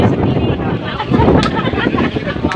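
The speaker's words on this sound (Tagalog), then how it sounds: "Alakas ang hangin" Strong wind roars and buffets the microphone in gusts, loud and close, with a voice faintly under the rush.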